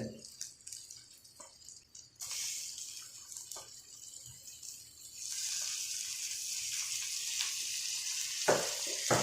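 Tomatoes hitting a pan of frying crushed ginger-garlic paste while cooking chicken biryani, a loud sizzle jumping up and then holding as a steady hiss, with small stirring clicks and drips.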